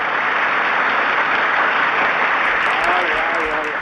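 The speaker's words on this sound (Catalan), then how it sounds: "Un aplaudiment per Quique." Studio audience applauding a contestant named Quique in a Catalan word-game quiz show, a steady dense wash of clapping filling the whole stretch, with faint voices toward the end.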